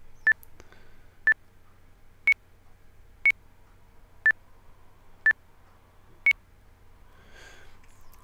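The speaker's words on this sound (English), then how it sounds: "the tempo timer will beep twice at one pitch, and then it will raise the pitch to beep another 2 times" Tempo timer in a workout routine app beeping at a steady one-per-second pace, seven short electronic tones in two pitches, a lower pair then a higher pair, clear and alone over a faint background hum.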